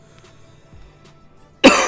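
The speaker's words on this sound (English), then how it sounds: "Wow, coughing like crazy." A man coughs once near the end, a sudden loud harsh burst close to the microphone after near silence with a few faint clicks.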